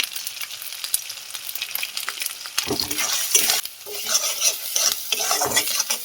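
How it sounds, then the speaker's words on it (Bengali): Ginger and cumin spice paste with turmeric, chili powder and salt stir-fried for a vegetarian ghugni, a steady sizzle broken by scraping, clattering stirs of a spoon against the pan, close and fairly loud, with no talk. "আদা আর জিরে বাটাটা দিয়ে এবার মশলাটা কষিয়ে নেবো ভালো করে"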